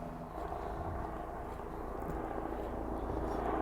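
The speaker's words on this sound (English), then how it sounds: "Oh no, Homes England has sent a helicopter to get me." A helicopter flies overhead, its steady broad rumble loud and close for the whole stretch and swelling slightly toward the end, with no talk.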